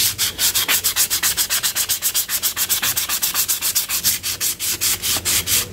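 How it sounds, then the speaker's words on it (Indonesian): Steady, rhythmic strokes of 400-grit sandpaper rasp back and forth against a surface, about four per second, close and even, with no talking. "Saya amplas pakai amplas 400 ya, seperti ini sampai dia rata ya, sampai hilang garisnya."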